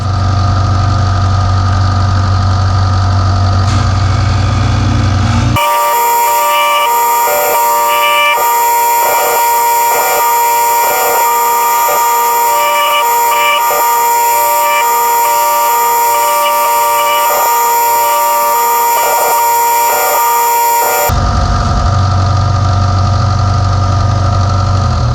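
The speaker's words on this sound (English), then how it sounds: "So now we're going to go over to the sander and get them shaped just right to fit with the bait and to get the square bill shape that we want" A sander shapes wooden crankbait lures into a square-bill form, its loud, steady motor whine starting abruptly, running for about fifteen seconds, then cutting off between quieter stretches.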